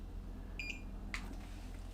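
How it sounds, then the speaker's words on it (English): A G2 Miles Dual electric skateboard remote gives a short, faint electronic beep as it connects to the board, with a second quieter chirp following a moment later over a low background hum. "the remote will beep once, and that is how you know you are connected to the board"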